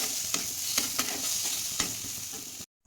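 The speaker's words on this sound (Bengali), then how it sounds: "এরপর মশলাটা সুন্দর করে কষিয়ে নিব।" Onion, tomato, cumin and black cumin masala is sautéed in a pan, with a steady moderate sizzle broken by several sharp taps and scrapes of stirring before the sound cuts off abruptly.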